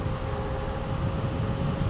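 A 72V 5000W converted e-bike running at maximum throttle around 50 mph, giving a steady broadband roar of wind and motor with a faint high whine, loud and constant throughout.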